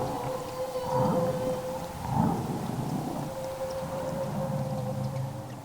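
Humpback whale feeding call recorded underwater in Southeast Alaska: a faint, long, singing tone runs through the whole stretch under rumbling water noise, with a few swelling low surges.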